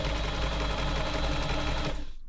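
A New Home 508 sewing machine runs fast with a dense rhythmic whir and clatter, loud and close, and stops abruptly near the end.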